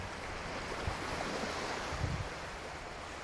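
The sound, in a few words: ocean waves on beach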